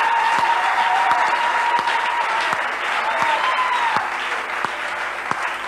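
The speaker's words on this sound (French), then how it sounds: "Applaudissons un peu pour le Seigneur" A church congregation applauds steadily for the Lord, many hands clapping in a dense, sustained wash, with a few louder individual claps and faint sung or voiced tones beneath.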